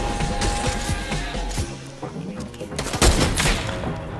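Dual pistols fire in a video game, rapid bursts of gunshots crackling in quick succession and loud throughout, with a heavier flurry near the end, while a voice talks over the gunfire.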